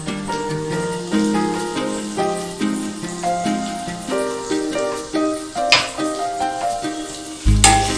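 Sliced onion with ginger garlic paste frying in a pan makes a steady sizzle, partly buried under louder background music, with occasional stirring bumps.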